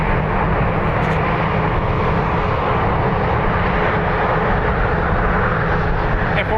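A Ryanair jet roars loud and steady as it takes off from Dublin Airport, producing continuous broadband engine noise with no pauses.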